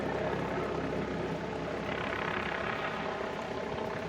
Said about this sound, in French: Vous voyez l'hélicoptère?